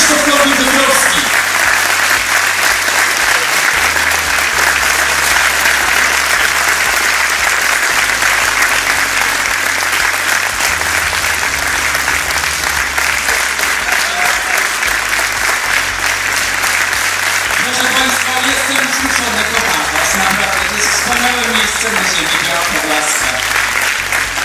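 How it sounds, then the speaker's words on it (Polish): An audience claps at length during a festival gala in Biała Podlaska, a loud, dense and continuous wall of applause with a steady rhythmic undertone and music running beneath it. "Wielkie brawa"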